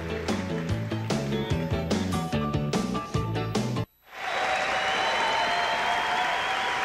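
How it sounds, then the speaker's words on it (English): A crowd at a 1997 PBA Bud Light Championship bowling match cheers and applauds after a double. A loud burst of clapping and cheering fills the scene, breaks off for a moment, then returns as a steady wash of applause. "the crowd has every right to cheer"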